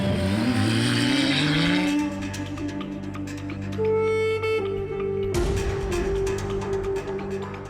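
A Dacia Sandrider rally car pulls away on a long run, its engine loud and close, revving up through rising gear pulls with a brief shift-like break before climbing again, no voices over it.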